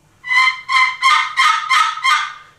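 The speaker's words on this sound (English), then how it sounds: "get that great note out of your box call, all you have to do is drag that striker across there" A Primos wet box call played by dragging the striker across the lid gives six loud, raspy turkey yelps in quick, even succession.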